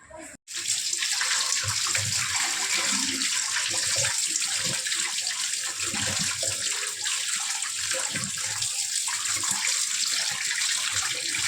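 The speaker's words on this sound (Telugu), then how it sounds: "ఇలాగా వాటర్లో శుభ్రం చేసుకొని పెట్టుకోవాలండి." Cut potato pieces are washed in water: a loud, steady rush of running water, like a tap filling a vessel, which begins after a brief knock and carries on without pause.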